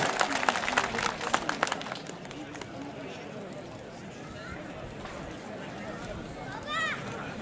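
Crowd at a village highland festival auction applauding a bid, a dense burst of clapping at the start that thins into a steady murmur of voices and crowd noise.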